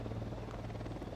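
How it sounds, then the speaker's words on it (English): A helicopter in the video game Ghost Recon Wildlands gives a steady, close rotor drone with a rhythmic low thrum, heard alone without talk. "I hate the helicopters in this game."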